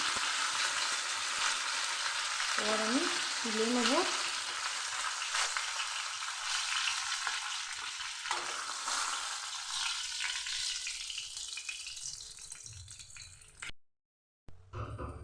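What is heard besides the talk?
rohu fish frying in oil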